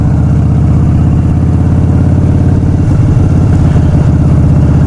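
A loud Harley-Davidson motorcycle engine idling with a deep, throaty exhaust rumble, steady and close, with some uneven revving pulses near the end.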